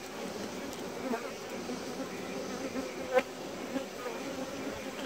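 Honey bees balling their queen make a dense, continuous buzzing hum close by, with a few louder passes as individual bees fly near.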